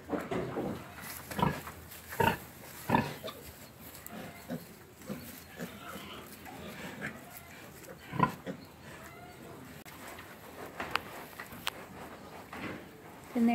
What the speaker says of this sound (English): I just gave him new straw, so she's still rooting around in it.